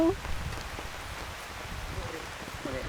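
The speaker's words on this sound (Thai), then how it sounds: "เหมือนตอนนี้ฮะฝนตกลงมาแล้ว" Rain falls on a Blackdeer camping tarp, a soft, steady patter close by that runs continuously beneath a person talking.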